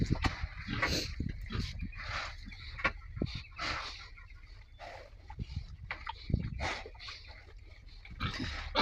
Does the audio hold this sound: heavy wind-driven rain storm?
no